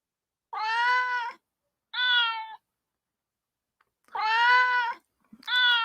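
Several cats meow in four drawn-out, clear calls with gaps between them, loud and close with no talking over them.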